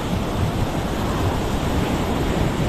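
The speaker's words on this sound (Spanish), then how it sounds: "Y así está el mar. Hermosa la pileta. Arenera del Faro, Mar del Plata" Sea waves wash onto the Arenera del Faro beach in Mar del Plata during a fishing outing, a steady, loud roar of surf with wind noise and no pauses or voices.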